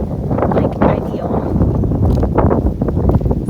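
Strong wind buffets the microphone on the open summit of Max Patch in wet, cold weather, a loud continuous rushing roar with gusty surges throughout and no clear talk.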